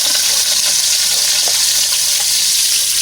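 Ginger sizzling in hot cooking oil in a pan, a loud, dense, continuous hiss and crackle that stays steady throughout, close up with no voices.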